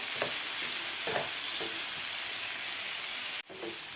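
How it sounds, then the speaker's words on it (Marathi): Chopped onion sautés in a pan for anda bhurji, giving a loud, continuous sizzle with a few scraping stirs. One brief break in the sizzle comes near the end. "आता आपल्याला एक मिनिटभर ही कांदा परतून घ्यायचा आहे"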